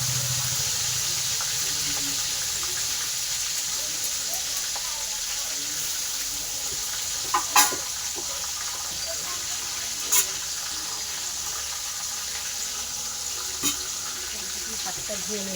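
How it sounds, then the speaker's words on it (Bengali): Hands are washed under a running kitchen tap at home, giving a steady, even rush of water throughout. A few sharp knocks cut in now and then, and no one speaks. "হাতটা ধুয়ে নিলাম"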